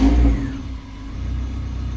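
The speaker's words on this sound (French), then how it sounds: "on va pouvoir démarrer la voiture suite à l'ensemble de la révision" A Citroën Xsara VTS engine after a full service, running low and steady with a brief rev at first that settles into an even idle, with no voices.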